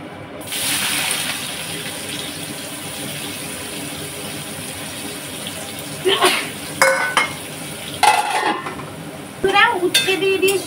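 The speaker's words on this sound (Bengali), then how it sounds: "তেলের মধ্যে উচ্ছে দিয়ে দিয়েছি, আর 5 ফোড়ন দিয়ে দিয়েছি, দিয়ে আর একটুখানি একটু নাড়াচাড়া করে নিচ্ছি" Bitter gourd and five-spice seeds fry in hot oil with a constant sizzle, while a spatula scrapes and clanks against the pan in several bursts of stirring toward the end.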